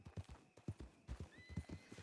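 Hoofbeats of several horses galloping in a Red Dead roleplay game, a fast uneven clip-clop rhythm with occasional whinnies, close and fairly loud, with a thin high tone drifting in the background.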